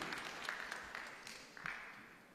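Faint applause from a conference audience thanking a Royal Caribbean Cruise Limited vice president after his keynote, a soft, steady wash of clapping with no voices over it.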